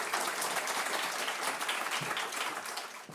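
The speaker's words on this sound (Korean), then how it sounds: "큰 박수로 환영하겠습니다." A church congregation applauds in a dense, steady wash as their pastor is welcomed to the pulpit during a Sunday service, fairly close and continuous before tapering slightly near the end.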